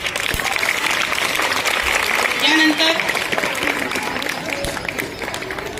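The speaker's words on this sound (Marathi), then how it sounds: "तुमच्या टीचर टाळ्या वाजवायला छान वाटलं पाहिजे, टाळ्या वाजवा" Audience applause at a primary school prize-giving ceremony, moderate clapping from the crowd mixed with an announcer's voice speaking over it.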